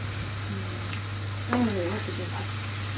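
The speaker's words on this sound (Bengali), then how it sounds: "আর একটু গরম পানি দিয়ে এটাকে আর একটু কষানো হচ্ছে পেঁয়াজটা তো একটু কষাতে কষাতে গলাতে হবে" Onions sautéing in a pan after a little hot water is added, a soft continuous sizzle with a brief louder burst of bubbling and stirring near the middle, alone with no voice.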